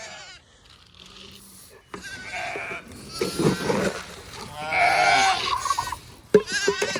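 Sheep bleating on a farm: several wavering bleats, some near and loud, others overlapping, with rustling movement and brief human voices.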